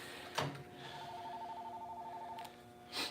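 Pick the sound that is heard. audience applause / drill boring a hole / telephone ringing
telephone ringing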